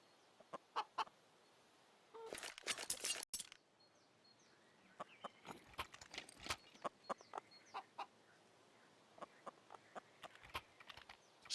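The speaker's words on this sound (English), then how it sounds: "Just the gentle clucking of chickens." Chickens cluck in short, scattered bursts from the Inferno map in the game Counter-Strike, with one denser flurry of clucks early on and quieter clucks spread through the rest.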